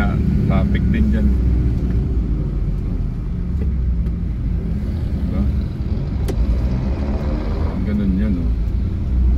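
Road traffic in Baguio rolls past as a continuous rumble of engines and passing vehicles, close and loud, with a horn-like tone partway through and people talking over it.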